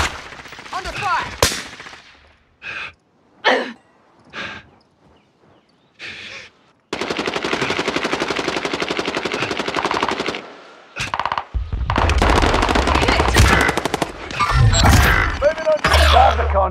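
Bursts of automatic gunfire crackle in a Call of Duty Warzone firefight, first in short separate volleys, then a long sustained rattling stream, followed by heavier mixed shooting with deep low thuds and mechanical clatter near the end.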